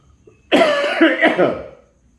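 A single harsh, throaty cough burst lasting about a second, loud and close, with a brief rasping tail.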